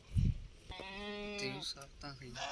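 A goat bleats on a goat farm: a low thump, then a long wavering nasal bleat, followed by a second shorter cry. The calls are fairly close and carry clearly over quiet surroundings.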